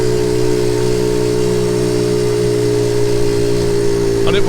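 A Honda Monkey Z50 J1 small motorcycle engine runs close by at a steady, even idle-like drone throughout, loud and continuous, recorded outdoors in Appledore, North Devon.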